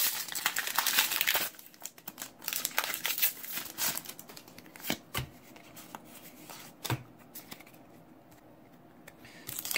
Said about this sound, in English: Get that wrapper out of here.